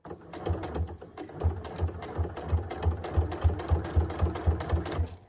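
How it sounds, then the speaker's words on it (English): Sewing machine stitching a curve through fabric for a soft glasses case, a steady rapid mechanical chatter of needle strokes with regular rhythmic pulses, close and fairly loud, with no talking. "Now we're going to sew this curve."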